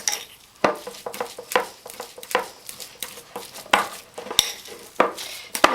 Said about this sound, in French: Donc, je commence à mélanger.